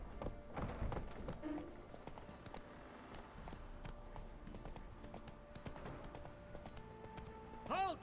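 Roach the horse in The Witcher 3 trotting, hooves clip-clopping in a steady rhythm on the ground, moderately close and quiet, with faint background activity and a brief louder tone near the end.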